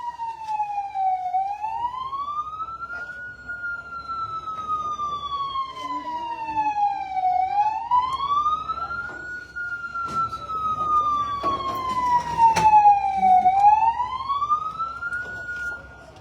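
A fire truck siren wails in a slow rising and falling cycle, repeating several times and growing slightly louder as it approaches along a roadside, with faint background noise and traffic beneath.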